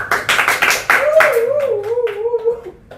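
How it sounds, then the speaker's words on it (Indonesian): A live audience claps together at a youth talk event in Batujajar, with a burst of applause in the opening second that fades as a speaker's voice carries on over it. "Tepuk tangan dulu."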